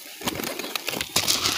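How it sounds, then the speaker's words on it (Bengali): Pigeons close by give soft cooing calls with rustling, flapping wing movements, a short busy burst of bird sounds that grows slightly louder near the end. "এদের অনেকগুলি কবুতর এখানে আছে"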